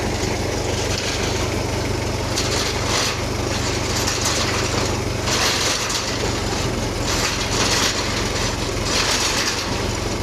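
A tractor engine runs continuously, a loud, steady mechanical drone with a broadband rattling hiss and brief surges, heard close and without speech.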